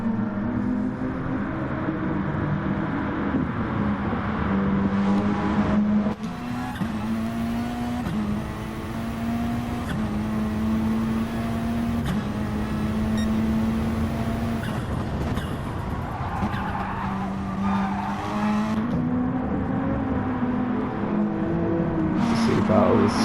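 Racing saloon cars from the Asian Super Saloons feature race run flat out down the main straight, a loud continuous engine drone with shifting pitch as the machines battle wheel to wheel in the slipstream.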